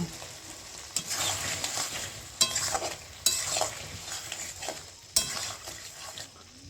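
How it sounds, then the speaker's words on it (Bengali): Mutton frying and being stirred in a pan during the kosha stage of a red, spicy mutton curry: steady sizzle with repeated scraping stirs and sharp metal clinks against the pan, fairly close and moderately loud, with no talking. "মাংসটি ভালোভাবে কষানো হয়ে গেছে"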